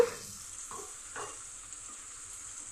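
Spice paste (masala) frying in oil in a pan, a soft, quiet sizzle with a couple of brief stirring scrapes near the start, no talk.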